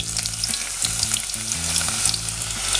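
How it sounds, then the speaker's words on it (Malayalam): Ginger sizzling and crackling steadily in hot oil left over from frying coconut pieces, a loud continuous close-up fry with occasional stirring, no voices. "ആ എണ്ണയിലോട്ട് തന്നെ ഇഞ്ചി ഇട്ട് കൊടുക്കുക"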